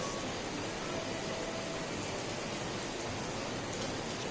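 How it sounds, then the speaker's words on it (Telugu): Heavy rain pouring down during an afternoon downpour in Bangalore, a dense unbroken wash of hiss that stays even and loud throughout, with no voices. "అది పెద్ద వర్షం స్టార్ట్ అయిపోయింది."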